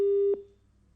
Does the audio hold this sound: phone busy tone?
yes